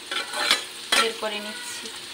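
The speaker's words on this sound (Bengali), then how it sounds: "কাজু আর কিশমিশের সঙ্গে সবজিটা একটু ভাজা হয়ে গেছে" Mixed vegetables frying in hot oil with cashews and raisins, sizzling close by with two loud bursts of stirring and scraping as they are lifted out, while someone speaks briefly.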